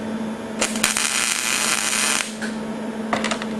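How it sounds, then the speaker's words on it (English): Tack welds going onto a steel tank: a few short crackling bursts of arc welding, one long sustained stretch and brief sparky pops, close and fairly loud over a steady electrical hum, with no talking. "Tack weld number 1. Number 2. I'll do 3."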